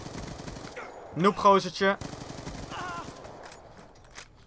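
Gunfire rattles in a Black Ops 2 match, a burst of several rapid shots loud in the middle, with softer shots after, while a player talks over it.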